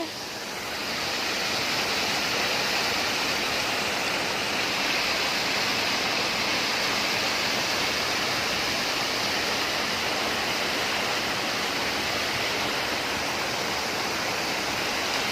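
Water rushes steadily through an irrigation channel beside a pond in a village among paddy fields, a loud, continuous, close-up gush with no pauses and no voices.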